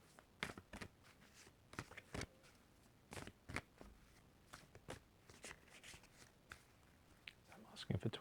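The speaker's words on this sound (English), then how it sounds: "and let's give this a nice good shuffle." A deck of oracle cards gets shuffled by hand in soft, irregular bursts of papery riffling and tapping, heard close up and quiet, with brief pauses between the bursts.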